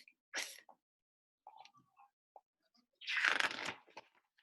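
A voice imitates a rotating lawn sprinkler with hissing, spraying bursts, a short one early and a longer, louder rush near the end, separated by a few soft mouth clicks.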